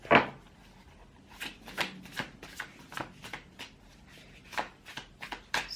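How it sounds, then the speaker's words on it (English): Tarot cards shuffled by hand in a series of quick, crisp riffling and slapping bursts at an irregular rhythm, close and fairly quiet, with no talking over them. "So as I'm shuffling these cards"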